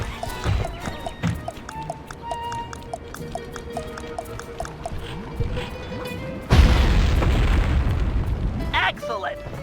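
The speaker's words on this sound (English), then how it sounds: "Place the dynamite when you get near the anchor, or kaboom!" Dynamite blast in Sly 3 on PS5, a sudden heavy boom that rumbles on with dense crackling debris after a stretch of game music and effects, and a voice speaks briefly beforehand.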